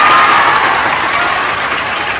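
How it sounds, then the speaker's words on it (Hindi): An audience at a coaching centre anniversary event in Patna applauds, producing a dense, loud, sustained wash of clapping from a large crowd that holds steady throughout. "तालियां बजाइए।"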